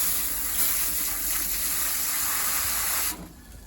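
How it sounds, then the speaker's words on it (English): Water gushing and hissing steadily from a hose into a sand and cement mortar mix for driveway repairs, loud and continuous before cutting off abruptly near the end. "Right, put some water in there."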